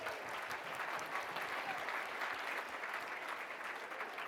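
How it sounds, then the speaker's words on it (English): A seated audience at a Lobby Day 2015 briefing breaks into a steady round of applause, dense, even clapping that holds at moderate loudness for the whole stretch without voices over it. "round of applause for Utah."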